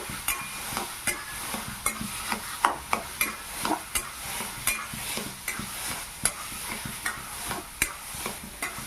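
Chhana being stirred and fried in a pan for sandesh, with steady scraping strokes of a spoon over a soft continuous sizzle, close and fairly quiet, no voices.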